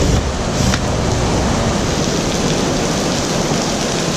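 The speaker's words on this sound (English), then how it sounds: "Alrighty, rain's back." Heavy rain falling outdoors during a RZR side-by-side seat installation, a dense, loud, continuous hiss of drops on surfaces with no voices.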